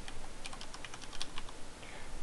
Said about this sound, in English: by deleting the word namespace and typing in replication.